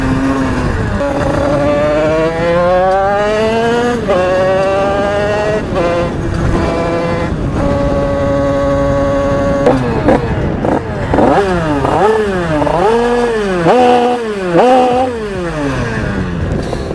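A moped engine fitted with a KRM 80/90 exhaust revs hard and loud up close, climbing and dropping in pitch through repeated bursts of throttle, with some mechanical clatter.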